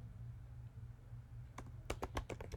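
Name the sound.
typing on a computer keyboard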